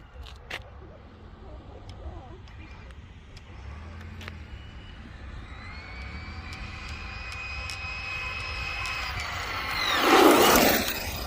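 An Arrma Mojave 6s RC car runs at full throttle, a rising high-pitched motor whine that builds over several seconds to a loud close pass near the end, over outdoor background noise.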